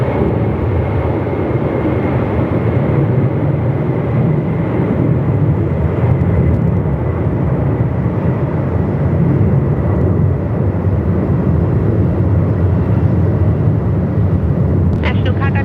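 A National Cargo plane takes off at Melbourne Airport in winds over 45 knots, a loud, sustained engine roar with heavy low rumble and wind buffeting, while people talk over it.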